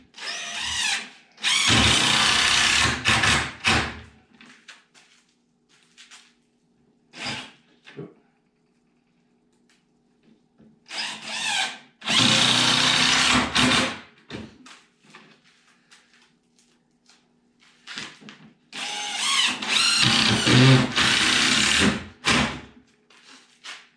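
Power drill driving screws into plywood laid on a pallet, several loud bursts of whirring and grinding a few seconds each, separated by quiet gaps with small clicks and knocks.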